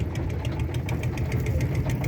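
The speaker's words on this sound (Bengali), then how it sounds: "দেখতে পাচ্ছেন এই যে নৌকা, নৌকাতে মানুষ পারাপার হচ্ছে।" A river ferry boat's engine putters steadily and close by, with a knocking, mid-pitched rhythm and no voices.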